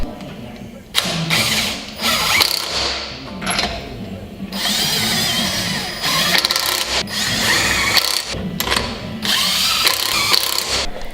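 An Audi A4 Avant's wheel is refitted and its nuts tightened with a power tool, heard as repeated loud whirring and rattling bursts separated by short pauses.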